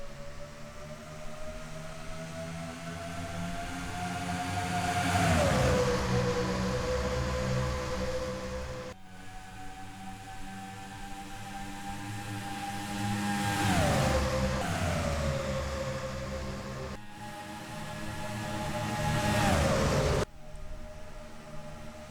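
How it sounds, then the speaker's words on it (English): Race car engines roaring at Talladega in the NR2003 racing simulation, a loud sustained drone with cars repeatedly passing close by, each pass rising then sweeping down in pitch, three passes in a row. "you can already hear those engines giving a lot of horsepower, a lot of RPM"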